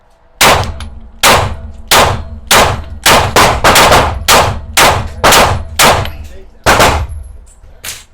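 Glock 19 pistol firing 9mm Badger factory-reloaded ammunition outdoors: about eleven loud, close shots in a steady, slightly uneven rhythm, each with a ringing tail.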